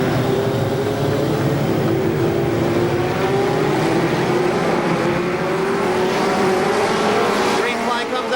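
Race cars roar around KilKare Speedway as racing resumes after a caution, a dense, continuous engine drone with rising and falling pitch while a commentator talks over it.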